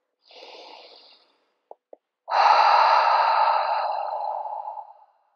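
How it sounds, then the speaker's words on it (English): A person takes a deep breath in through the nose during a yoga flow, then after two small clicks lets out a long, loud exhale through an open mouth that fades away. "We love the deep breath."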